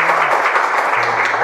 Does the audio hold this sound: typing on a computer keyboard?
no